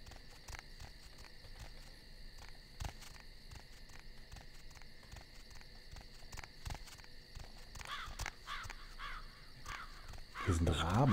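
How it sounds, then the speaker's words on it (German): Ravens caw in a video game set among dark, moody surroundings, with harsh calls sounding faintly over a steady ambient bed of insect-like chirring and occasional footsteps. "Hier sind Raben. Warum sind hier Raben?"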